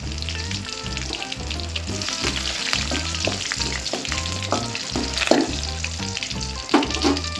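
Curry leaves and green and dried red chillies fry in hot oil for raw mango pachadi, giving a steady, close sizzle with occasional sharper crackles over soft background music.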